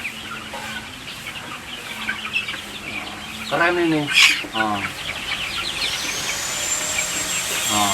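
Kampung chickens, including young future roosters, cluck on a poultry farm, with repeated close calls and a louder squawking burst midway, while a person speaks briefly nearby.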